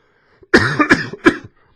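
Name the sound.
cough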